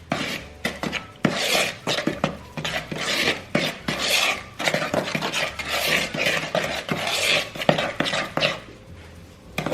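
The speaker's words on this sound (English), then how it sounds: "semolina, the ground almonds, and then with a spoon we're just going to mix this" A spoon stirs semolina, chickpea flour and ground almonds in a bowl, giving a steady run of close, gritty scraping and rasping strokes with light clinks against the bowl, no voices.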